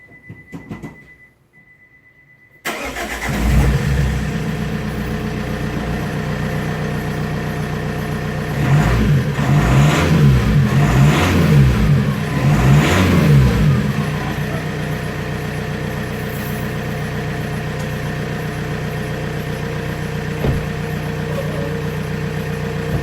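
After a moment of quiet, a Vauxhall Insignia engine with a NASCAR-style exhaust and an exhaust leak at the front cranks and catches, settles into an idle, then revs several times in quick bursts before returning to a steady idle.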